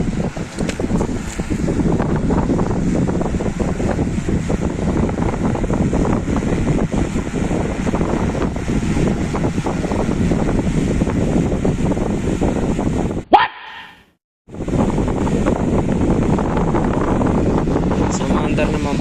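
A repaired Camel desk fan with a replaced neck runs after being plugged in, giving a loud, steady whooshing hum that cuts out for about a second near the end, then resumes.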